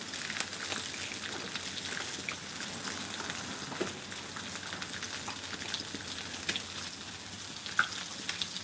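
Four pounds of bacon, some of it jalapeno-topped, sizzling in a pan as a steady crackling hiss, dotted with small pops and one sharper tick near the end.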